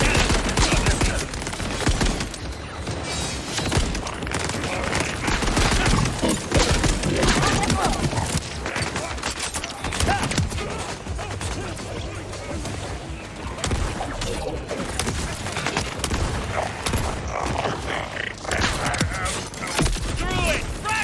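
Relentless high-caliber gunfire in the video game Borderlands 4, dense rapid bursts with crashes and booms filling the whole stretch, loud and close, with voices talking over the combat.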